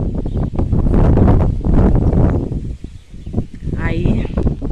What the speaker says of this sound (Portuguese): Tá ventando muito, tá? Barulho de vento aí, perdão.